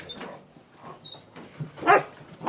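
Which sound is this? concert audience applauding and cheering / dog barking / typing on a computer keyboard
dog barking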